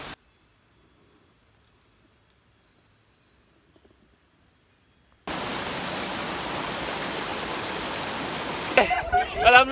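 Pelangi waterfall at Sungai Lembing, Pahang, roars as a steady broadband rush that starts abruptly after about five seconds of near silence, loud and close, with brief voices breaking in near the end.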